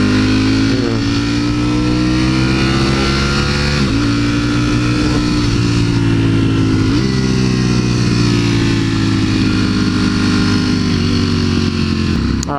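Yamaha R6 sport bike engine running close and loud, revving steadily through several gear shifts as it rides along, with a constant droning pitch that drops and climbs between changes.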